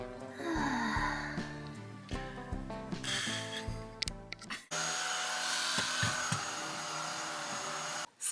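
A powerful household vacuum cleaner runs loud and close on a carpet aboard a narrowboat, its steady roar interrupted by bumps and knocks, then rising to a sustained high-pitched whine until it cuts off at the end.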